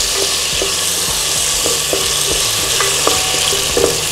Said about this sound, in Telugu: ఇలా అల్లం వెల్లుల్లి పేస్ట్ వేయించుకున్న తర్వాత